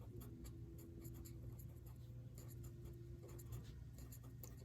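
A pen or pencil writes notes by hand on paper, producing close, faint, continuous scratching strokes with short pauses between words, alone without talk.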